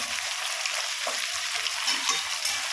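Fish with Malabar spinach fries in a pan while being stirred, a dense, close sizzle with soft scraping and shuffling from the stirring, steady throughout without speech.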